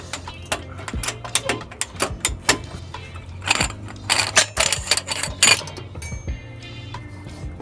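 A wrench working a part loose on a car, close metallic clicks, clinks and ratcheting taps in irregular bursts, with a brief voice now and then.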